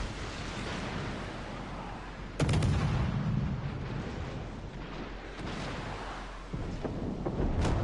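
A warship in the naval combat game World of Warships is struck by shell fire, heard as a sudden heavy boom at about two and a half seconds over a constant roar of battle noise, with a further impact thud near the end.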